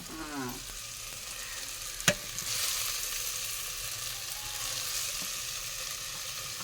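Brinjal and tomato curry, seasoned with salt, chili powder and turmeric, is stirred in a pan with a steady low sizzle, broken by one sharp clank of the spoon against the pan early on.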